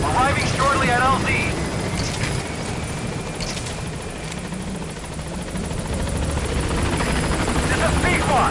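Helicopter in the video game Metal Gear Solid V approaching a landing zone, a steady loud rotor and engine roar filling the whole clip, with radio chatter and game effects layered over it.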